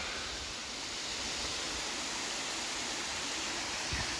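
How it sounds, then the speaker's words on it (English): Water from a hidden mountain waterfall rushes steadily at night, a dense, continuous roar close by with no pauses or voices. "Even the running water right here in front of me just..."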